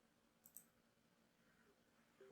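A computer mouse clicks twice in quick succession, quiet and close, followed by another sharp click at the very end against a near-silent room while working on a Windows 11 PC.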